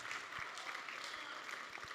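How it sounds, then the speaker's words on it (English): Applause from attendees at a District 4 city meeting, honoring the mayor and the administration. Clapping runs steady and moderately quiet for the full two seconds, with a thin hint of voices underneath. "You all give a round of applause to the mayor and the administration."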